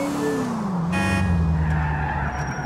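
A car in the video game GTA 4 drives and skids, its engine droning as tires squeal briefly, loud and close with no talk.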